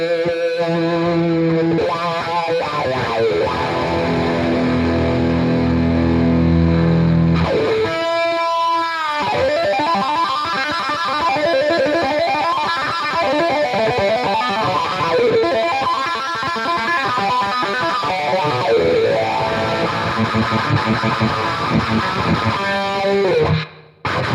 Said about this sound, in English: I definitely think the guitar sounds a lot better.